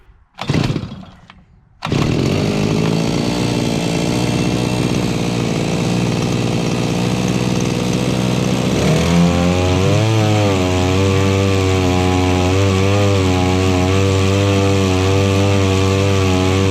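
A Seahorse 3.5HP two-stroke outboard motor starts with a brief sputter, then runs steadily and loudly with a buzzing, high-revving drone that shifts pitch partway through.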